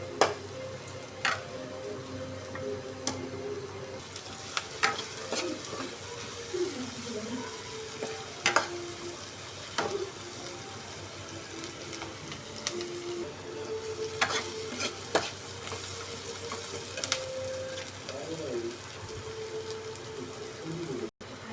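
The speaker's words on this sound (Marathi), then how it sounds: "यामध्ये आपण कांदा टाकूया आणि मस्त लाल लाल होईपर्यंत कांदा आपण भाजून घेऊया।" Onion frying in oil with cumin for a Marathi onion-potato bhaji, a steady close sizzle with repeated scraping stirs over about twenty seconds, no talking.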